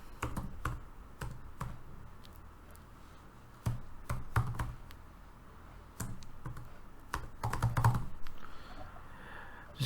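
Computer keyboard keys tapped in short irregular bursts while an address is entered, close and fairly quiet, with brief pauses between runs of clicks and no talking.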